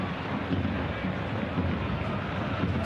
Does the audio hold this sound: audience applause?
no